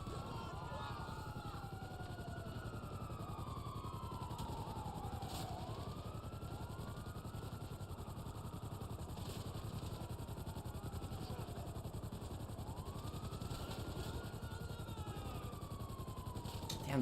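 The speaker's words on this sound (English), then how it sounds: "those helicopters are gonna be the death of me" Helicopters in the GTA Online video game drone steadily at moderate distance, with a constant rotor hum beneath repeated rising and falling siren wails and no talking.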